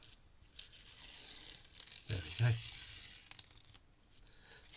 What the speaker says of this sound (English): one of my favourite bits now is taking the tape off of our image, just being a bit careful not to tear the paper